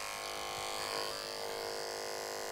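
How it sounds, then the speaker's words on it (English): An electric hair clipper runs with a steady close buzzing hum that holds evenly from start to end. "I'm going to turn the clipper on before I snap the blade shut"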